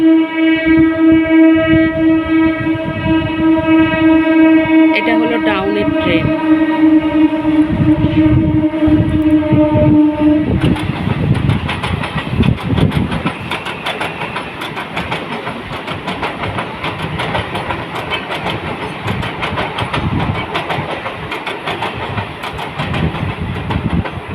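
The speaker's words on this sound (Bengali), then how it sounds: "আবার একটা ট্রেন আসছে দেখো ওখান থেকে" A train horn blares steadily for about ten seconds, then a passing train rumbles and clatters loudly along the rails.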